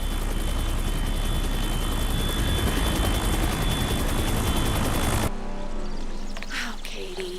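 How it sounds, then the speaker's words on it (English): Helicopter rotor and engine roaring loud and steady for about five seconds, then cutting abruptly to a quieter, hollow background with a faint whine. "Now land my chopper."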